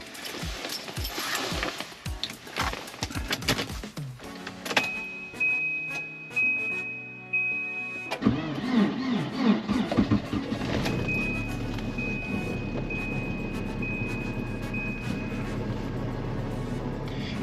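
A Volvo 240 cold starts in freezing polar-vortex weather, six degrees below zero: rattling cranking and clicks give way to the engine catching, then a steady close idle drone with a thin high whine.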